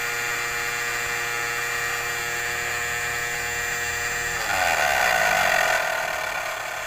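A small Arduino Uno fan controlled from a keyboard whirs close by with a high, steady electric motor whine. It shifts speed partway through, swelling into a louder, rougher whir.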